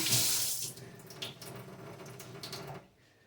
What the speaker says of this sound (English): So I'm going to wet my hands again.